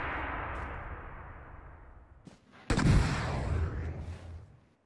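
A rocket launcher fires in a battle-royale shooting game. After a fading rumble there is a sudden loud blast with a heavy booming tail that decays over about two seconds.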